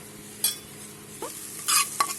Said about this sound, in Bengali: সেটা এখন মিক্সড করে নেব।